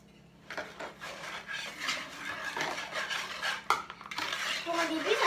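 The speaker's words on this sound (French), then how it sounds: "Tu fouettes." Butter and sugar being whisked together in a bowl, heard as close, continuous rhythmic scraping and clinking of the whisk against the bowl that grows louder toward the end, with no talking.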